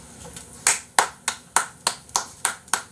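Hand clapping, about eight sharp claps in a slow, even rhythm, close by and distinct, with no voices over them.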